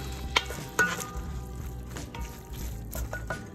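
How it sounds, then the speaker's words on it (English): Chicken enchilada meat simmering and being stirred in a pan, a soft, quiet bubbling sizzle with occasional clicks and scrapes of a utensil. "Let this simmer for a little while."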